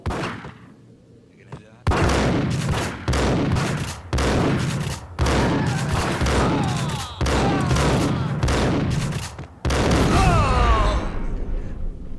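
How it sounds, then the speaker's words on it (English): Rapid bursts of gunfire from the noir shooter Max Payne Remastered, loud and close, arriving in several dense volleys separated by brief pauses, with booming impacts and a quieter lull at the start. "Gun him down!"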